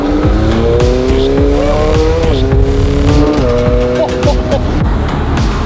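A McLaren 720 sports car driving, its engine a loud, close, steady drone that rises and shifts in pitch through gear changes, with a voice faintly underneath.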